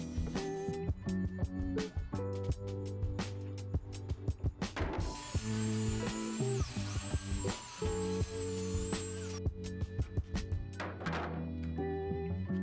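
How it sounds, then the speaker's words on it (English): A power tool cutting half-inch plywood boards: scattered knocks and thunks of handling, then a sustained high, rasping cutting whine for several seconds before the knocking resumes. "I'm cutting 2 boards of plywood to create the side panels"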